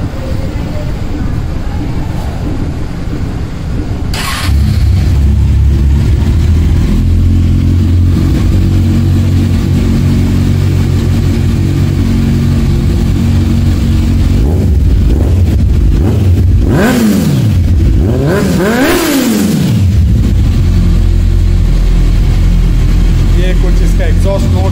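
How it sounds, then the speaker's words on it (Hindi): A used superbike fitted with an Akrapovic exhaust starts up and idles loudly, then gets two sharp rising-and-falling revs near the end before settling back to a steady burble, with someone talking over it at times. "अभी इसका एग्जॉस्ट नोट आपको मैं चालू करके"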